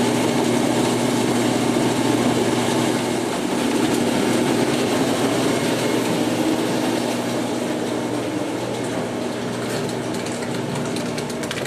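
A WE286 grape de-stemmer runs steadily, its motor holding a constant hum under a continuous mechanical rattle and clatter, close and even throughout, with no voices.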